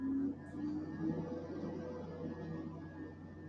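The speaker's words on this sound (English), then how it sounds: "Is that a fan or is that Thelma cleaning? That's my computer." Steady low hum of a computer fan running continuously indoors, a faint, even drone with a few tonal lines and no change in level.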